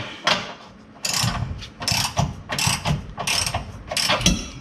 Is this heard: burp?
no